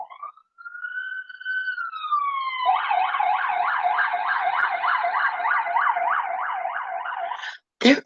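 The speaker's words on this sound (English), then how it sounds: "here comes the ambulance" An ambulance siren passes along a street, first a rising and falling wail, then a rapid repeating yelp held for several seconds at moderate distance, ending with a brief loud burst.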